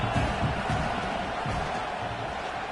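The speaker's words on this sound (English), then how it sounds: "It's early, but this crowd is fired up. Listen to this noise here." A fired-up stadium crowd in an NCAA football video game roars in a dense, constant wash of cheering and shouting. It is loud and sustained, with no pauses.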